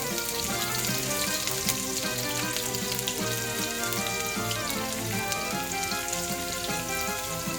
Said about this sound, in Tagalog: Lagay na natin yung bawang. Mainit na yung kawali.